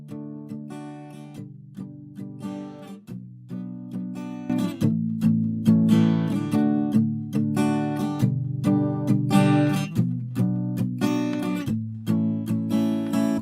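Acoustic guitar strums a chord progression in a steady rhythm, starting softer and then growing fuller and louder, with chords changing every couple of seconds.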